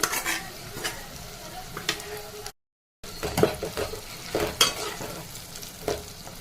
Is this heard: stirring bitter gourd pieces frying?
yes